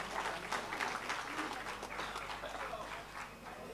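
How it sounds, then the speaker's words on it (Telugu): An audience at a comedy stage show applauds, a dense, steady wash of clapping heard faintly from a distance for a few seconds, with crowd noise mixed in. "పాడే ముందు ఒకసారి చిన్న చప్పట్లు ఇస్తే"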